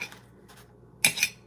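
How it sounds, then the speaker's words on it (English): Hard-boiled eggs, peeled, being chopped in a bowl with a knife or utensil, giving a few soft taps followed by a sharper double clink of metal against the bowl, close and fairly quiet, with no talking. "take my eggs here and start chopping them"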